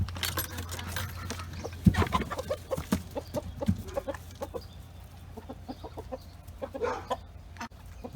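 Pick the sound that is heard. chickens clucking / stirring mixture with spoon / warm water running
chickens clucking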